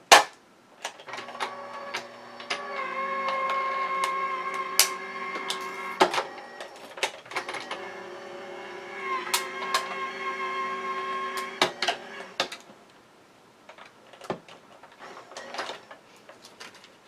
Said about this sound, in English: I am going to die cut it out of here